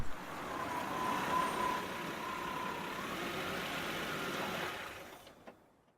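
A car engine in the video game Death Mark runs with a steady mid-range drone and faint whine, holding level for several seconds before fading out abruptly, no talking.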